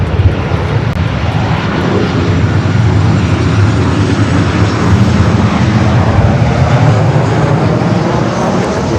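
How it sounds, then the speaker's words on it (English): Emirates Airbus A380 taking off at LAX, a loud, steady, close roar of engine thrust that fills the whole clip without letting up, with no voices over it. "as soon as the Emirates A380 Super takes off here"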